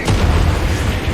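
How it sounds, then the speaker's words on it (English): Heavy explosions from an airstrike destroying an arms depot in an action film, a loud sustained rumbling boom with dense low roar and crackling debris throughout, no speech. "Ritter then calls in an airstrike to finish off the arms depot"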